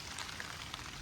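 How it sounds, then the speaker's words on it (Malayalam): Wind-driven rain falls steadily on a hillside near home, an even, faint hiss of drops on surfaces with no voices or other sounds. "കാറ്റടിച്ചിട്ടായി മഴ വരുന്നത്"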